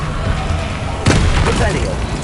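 The Confringo explosive spell from Hogwarts Legacy lands as a single loud, abrupt blast about midway, followed by a short crackling tail over busy game noise.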